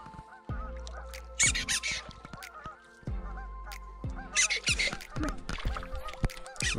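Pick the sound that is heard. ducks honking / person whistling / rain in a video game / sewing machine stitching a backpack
ducks honking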